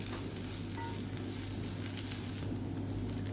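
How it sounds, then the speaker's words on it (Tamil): Beans masala with ground spice powder stirred in a pan gives a faint, steady sizzle. Soft scraping runs through it, with no talking. "சேர்த்துட்டு நல்லா கிளறி விட்டுக்கலாம்"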